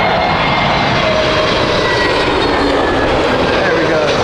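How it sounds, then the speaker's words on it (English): An Airbus A321neo lands at Heathrow in crosswinds, its engines giving a loud, close, roaring whine that stays strong across the whole span. Spectators talk faintly under the noise. "The Airbus A321neo."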